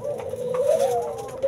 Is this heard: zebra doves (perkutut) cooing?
yes